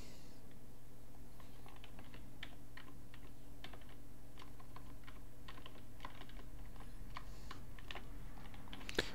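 A file name being typed on a computer keyboard, a quick irregular run of light key clicks over a low steady hum, close and clear with no talking.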